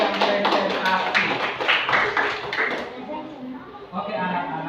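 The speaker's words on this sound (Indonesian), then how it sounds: "tepuk tangan dulu untuk kelompok yang presentasi" Schoolchildren in a classroom clap for a group that has just presented, a brisk burst of many small hands that fades after a few seconds while voices carry on underneath.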